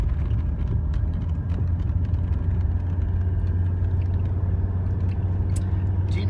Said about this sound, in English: No difference in sound. Maybe even a little quieter, a little less diesel knock on the oil